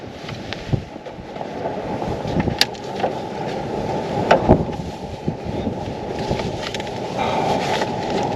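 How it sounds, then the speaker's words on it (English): Strong wind outdoors in a wintry basin buffets the microphone in a continuous roar that swells and gusts, loud and close, with faint knocks and movement under it. "Holy wind, dude."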